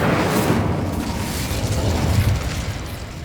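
Incendio fire spell cast in Hogwarts Legacy, a loud, sustained fiery burst with a deep rumbling roar that holds steady for several seconds with no talk over it.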